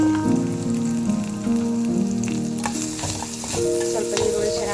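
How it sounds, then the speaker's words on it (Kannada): Onions fry with curry leaves and coriander in a pan, a close, loud crackling sizzle that continues steadily with light stirring scrapes, while a sustained tonal hum runs underneath. "ಇನ್ನು ಸ್ವಲ್ಪ ಈರುಳ್ಳಿ ಫ್ರೈ ಆಗೋವರೆಗೂ ಫ್ರೈ ಮಾಡೋಣ"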